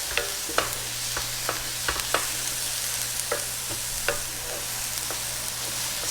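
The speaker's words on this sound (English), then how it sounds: "I think for this recipe it works well just to saute it." Cauliflower rice sautéing in a pan, a steady soft sizzle with scattered sharp clicks of a utensil scraping and stirring, close and fairly quiet with a low hum underneath and no talking.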